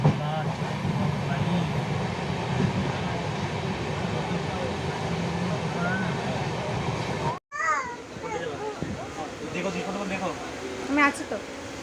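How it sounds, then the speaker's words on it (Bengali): A train runs along with a constant dense rumble and rattle heard from inside a carriage, cut off abruptly partway and resuming with softer rolling noise and faint background voices. "ট্রেন ছাড়লো, তারপর সকাল সকাল পৌঁছে যাবো বাড়ি"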